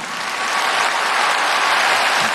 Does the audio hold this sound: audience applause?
yes